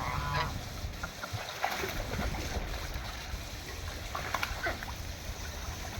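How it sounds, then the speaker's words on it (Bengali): Geese and white Peking ducks call faintly from a distance among outdoor background noise, giving scattered honks over a steady low rumble, with no clear talk. "রাজহাঁসও আছে কয়েকটা।"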